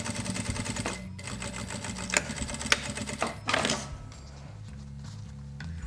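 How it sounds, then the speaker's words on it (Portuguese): A sewing machine stitches the end of a fabric wallet kit with a backstitch at the start and finish, a steady close mechanical whir that pauses briefly and restarts, then stops near the end. "nós vamos passar uma costura aqui na ponta, tá? Retrocesso no início e no final."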